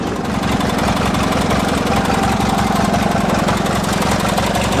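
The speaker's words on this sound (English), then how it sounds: "Not a whiff smoke from the engine, sounding as good as ever." MTD990 garden tractor engine idling steadily, a close, loud, even low chugging pulse with a fast regular rhythm and no talk over it.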